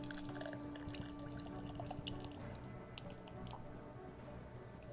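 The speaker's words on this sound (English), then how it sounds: "joined Sir William in a drink of Guinness Original. Yes! We'll pour it." A Guinness Original is poured in a murder-mystery video game set around Jack the Ripper, with soft wet squishing, glugging and dripping liquid under a faint background hum.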